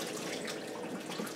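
Liquid poured out of a spaghetti pot streams and splashes steadily at close range for a brief moment, with no speech over it.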